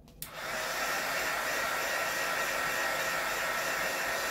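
A heat gun warms VViViD 3D carbon fiber vinyl wrap around a Scion tC steering wheel, starting with a click and then holding a loud, steady, close blowing roar for the rest of the clip.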